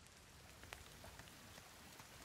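Rain falls in the video game The Forest, a very faint, steady patter of drops on surfaces with no voices over it.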